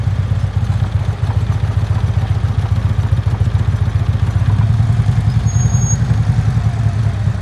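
A Harley-Davidson Road Glide pulling away slowly from a stop: a loud, steady, low engine rumble with a pulsing beat, close by and holding an even level throughout, with no speech.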